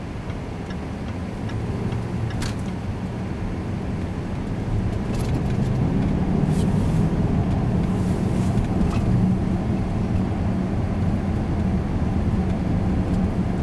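A Jaguar Land Rover autonomous car pulls away from traffic lights, its engine and road noise swelling gradually as it accelerates, with faint ticking clicks scattered over the steady drone.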